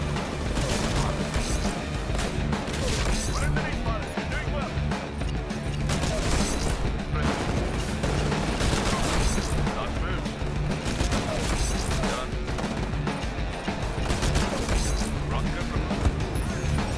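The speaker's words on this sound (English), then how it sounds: "This is the Mark V Smart Pistol" Rapid gunfire from the Mark V Smart Pistol in the video game Titanfall, a dense, loud run of shots and crashing impacts that continues throughout under a talking voice.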